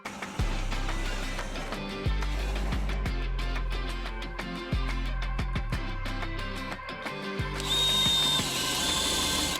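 Power drill boring a hole while adding an outlet in an off-grid container shop, heard as repeated close, loud whirring bursts that start and stop several times, with ratcheting clicks and no talk.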